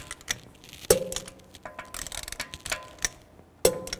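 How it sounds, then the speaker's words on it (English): A torque wrench tightens the lug bolts on a BMW X3 wheel, giving a few sharp metallic clicks and ratcheting ticks at irregular intervals, close and fairly quiet. "Now I'm just going to torque these lug bolts to 110 foot-pounds."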